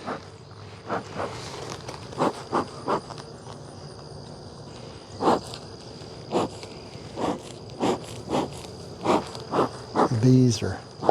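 Honey bees hum faintly around the top boxes of a hive. A soft, steady insect drone sits beneath a run of sharp knocks and taps that repeat every second or so, up close.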